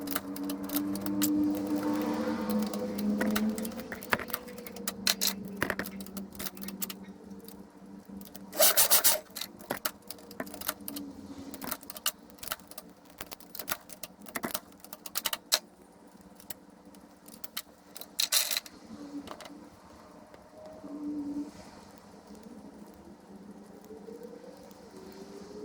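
Domestic knitting machine worked by hand while making a separate tuxedo-style collar: repeated metallic sliding rasps and clicky jangles from the carriage passing over the needle bed, with louder sharp bursts at intervals and no talking.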